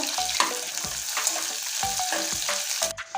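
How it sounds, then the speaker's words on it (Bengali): Chopped onions sizzle and fry in a pan for Bengali water spinach stir-fry, a steady close crackle broken by several rhythmic scraping stirs, with no talking. "এই পেঁয়াজটা দিয়ে দেব পেঁয়াজটা এখন লাল করে ভেজে নেব"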